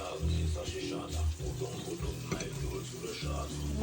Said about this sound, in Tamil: தக்காளி பழத்தையும் பொரிச்செடுப்போம். பொரித்து மூடி விடுவோம்.